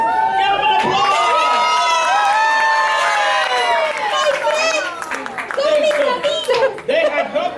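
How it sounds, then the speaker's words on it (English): A children's audience at a vacation Bible school puppet show claps and cheers loudly, with many high young voices shouting and whooping together over scattered applause that thins out toward the end. "Give him an applause."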